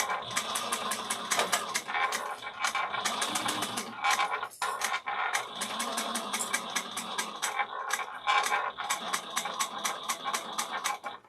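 A sewing machine back stitches the seam of a handmade satchel, a loud, steady run of rapid needle strokes with brief pauses and stops between short bursts.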